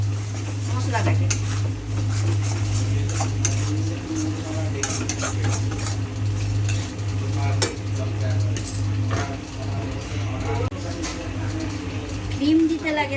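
Spice masala being stirred with kasuri methi in a pan, a steady scraping stir with faint sizzling and utensil clinks against the pan, under a constant low hum, close and continuous.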